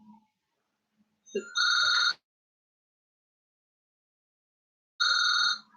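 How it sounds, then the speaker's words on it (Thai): Telephone ringing in two loud electronic bursts, the first near one second long and the second shorter after a pause, with a faint sound before and silence in between. "ป้าโทรมาแล้วไม่พูดไม่รู้จะโทรมาทำไม"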